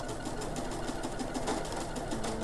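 A sewing machine stitching a pocket close to a metal zipper, running in a steady, even mechanical whir throughout at moderate level, with no voices.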